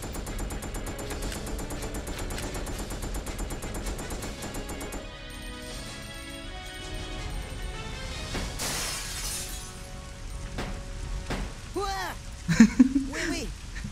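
Video game gunfire in Resident Evil Code Veronica rings out in rapid bursts along with shattering glass and sharp impacts, over game music, and a louder burst of shots comes near the end while voices speak.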